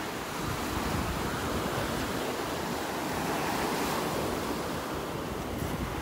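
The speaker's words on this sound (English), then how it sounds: "just let you watch and listen to the waves as they roll in" Ocean waves roll onto a beach in North Naples, Florida, a steady broadband wash of surf that stays loud and constant throughout, with a light wind rumble and no voices.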